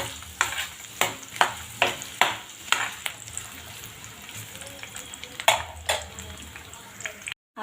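Onion frying in a pan until brown, with whole cardamom and peppercorns already in the oil: a steady sizzle broken by regular sharp stirring strokes, close and fairly loud, cutting off abruptly at the end.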